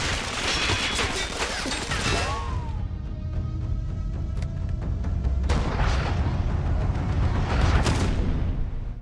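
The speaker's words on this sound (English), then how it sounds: "I really like the introduction of Wonder Woman in the French village when she attacks the German soldiers" Battle in a film scene set in a French village during a First World War attack on German soldiers: dense gunfire and booming explosions roll continuously, loud and crowded, with sharp cracks over a rumbling base.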